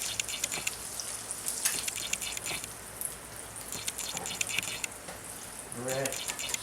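Eggs sizzle and crackle steadily in a hot pan just after being flipped, a close, continuous frying hiss with scattered pops throughout.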